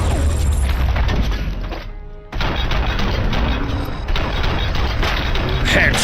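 A door-breach explosion in the video game Robocop: Rogue City: a loud, dense blast and crash filling the clip, with a brief drop near two seconds before heavy booming and rattling debris resume, loud and close.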